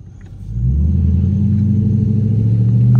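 A Dodge Charger RT engine drones low and steady, the rumble swelling after a brief lower start and holding a loud, sustained pitch while drifting around corners, close with no voices.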